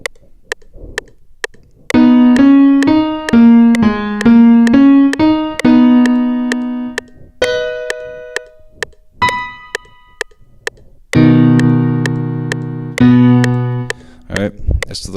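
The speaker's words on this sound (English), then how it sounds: "It has a real kind of piano keyboard sound to it." An audio keyboard recorded directly, playing short piano-like melodic phrases and chords in a tone similar to a digital piano. The notes are close and clear, with sharp key clicks between phrases.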